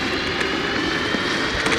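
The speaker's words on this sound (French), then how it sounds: "Le petit bruit caractéristique des Dualtron par contre c'est vrai que c'est sympa." A Dualtron Victor electric scooter with 6800 km on it is ridden at speed, giving a steady motor whine buried in heavy wind rush and road roar, with no talking.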